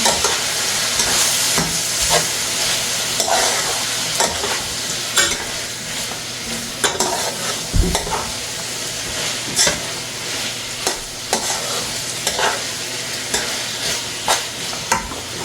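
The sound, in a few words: stirring ackee and saltfish seasoned with Maggi in pan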